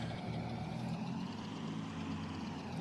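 A tractor engine idles and runs steadily in Farming Simulator 22, with a low, continuous rumble and a constant level that stays unbroken from start to finish.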